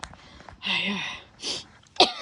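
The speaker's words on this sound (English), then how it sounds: "Yes, I'm sniffing a lot today. My nose is running" A person with a runny nose sniffs sharply three times, close up, outdoors among flowers.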